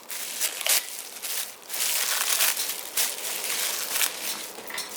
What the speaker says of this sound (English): So I'm just gonna pull off a little bit of plastic if I can. Regular plastic bag.